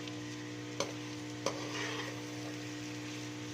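Okra (bhindi) masala cooking in oil in a pan, with a steady, moderate sizzle broken by two sharp utensil taps as it is stirred.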